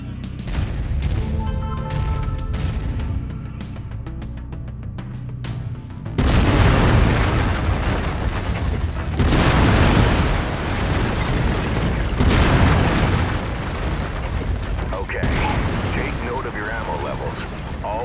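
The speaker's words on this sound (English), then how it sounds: "I've mapped the autocannon to Weapon Group 1. You're free to fire whenever you're ready." Autocannon fire from a mech in the PC game MechWarrior 5: Mercenaries: loud, heavy booming shots that start partway through and repeat as a sustained barrage, with a voice talking over the quieter opening.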